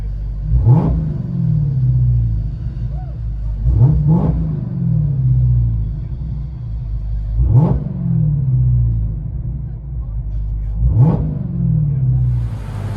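A 2018 Dodge Charger Hellcat with a 6.2L supercharged V8 and Flowmaster race dual exhaust, heard from inside the cabin: four hard revs at even intervals, each rising sharply and falling back into a deep, loud rumbling idle.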